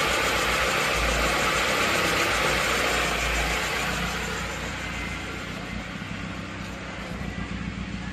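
A car engine idles at roughly 900 RPM after a carburetor adjustment, a steady close mechanical rumble with a faint knock that eases slightly in loudness midway and continues without pause.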